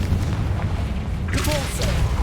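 A Confringo spell goes off in Hogwarts Legacy, heard as a deep booming blast with a rumbling burst that flares up partway through, over a voice casting the spell.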